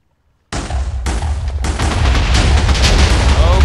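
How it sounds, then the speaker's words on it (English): A large explosion in Minecraft, likely TNT set off underground, bursts in loudly after a brief silence, followed by a second blast and a sustained rumbling roar of debris that builds and fills the rest. "That was pretty big explosion."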